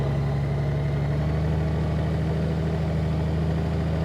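An automatic motorcycle engine runs at a slight throttle around 1,000 rpm during a slow U-turn, a steady low hum held evenly and close.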